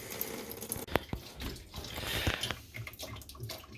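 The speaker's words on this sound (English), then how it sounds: "you can see we have a couple streams coming down here because I didn't take that splash shield off. And we're just going to let that drain." Engine coolant drains from a 2013 Ford Edge 3.5L, with streams splashing down because the splash shield is still on. Faint trickling and dripping water sounds come through alongside soft irregular splashes, with no talk.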